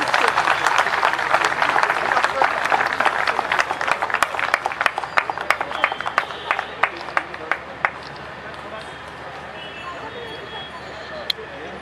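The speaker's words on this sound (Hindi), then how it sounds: "श्रीमती चंद्रावती माता श्री श्यामलाल, जोरदार तालियां चाहिए आपकी।" Loud crowd applause at a ceremony honoring a martyred soldier's family fills the first half, then thins into scattered individual claps that slow and fade to near silence.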